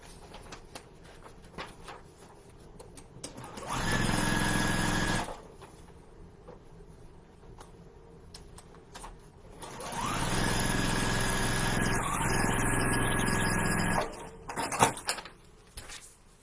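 A sewing machine stitches a quilt block in two long runs, a short burst followed by a longer steady whirr, with quiet pauses between them.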